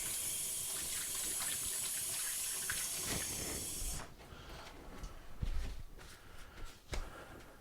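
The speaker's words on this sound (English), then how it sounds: "first I'm going to rinse my hands off." A kitchen tap runs in a steady hiss for about four seconds while hands are rinsed beneath it, then it shuts off, leaving scattered drips and soft splashing.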